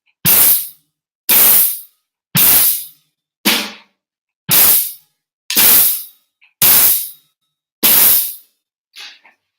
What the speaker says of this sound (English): bass drum hi-hat, snare drum hi-hat.